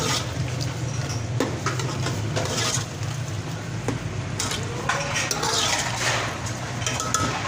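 Minced meat in oil or ghee is stirred in a cooking pot, with soft scraping and light clinks of a spoon against the pan over a steady background hiss and hum, close by and without talk.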